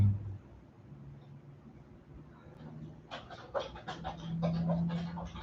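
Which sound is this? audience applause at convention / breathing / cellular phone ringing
breathing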